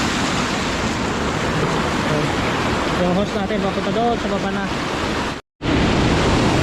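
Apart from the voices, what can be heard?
water flowing over small waterfall at a spring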